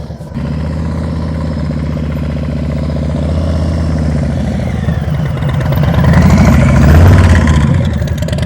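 A motorcycle engine runs close by during slow-speed riding drills, a steady idle that swells into louder revving toward the end.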